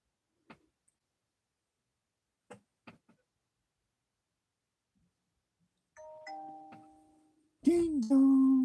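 A doorbell sounds a two-tone ding-dong chime near the end, preceded by a few scattered faint clicks in an otherwise quiet room.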